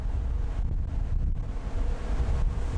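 Strong wind buffets the microphone on the deck of the research ship Onnuri, with rough sea waves surging beneath in a steady low roar.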